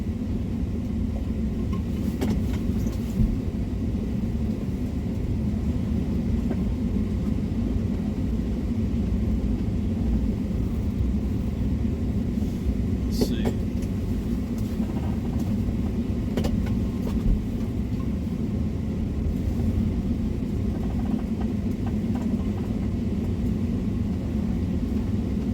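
A campervan engine idles as the van slowly reverses through deep snow among trees during a winter snowstorm, giving a steady, close, continuous low rumble throughout.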